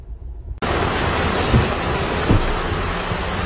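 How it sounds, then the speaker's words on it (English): Heavy rain begins abruptly as a loud, dense hiss after a brief quieter moment, continuing steadily with a couple of faint low thumps. "That rain was coming down."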